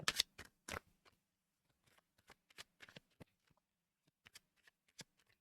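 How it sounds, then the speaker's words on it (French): Cards are laid one by one onto a table during a reading, giving soft, sparse snaps and slaps at irregular intervals in a quiet room. "je termine de mettre mes cartes"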